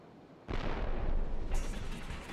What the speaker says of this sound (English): A cannon? Is it Bowser?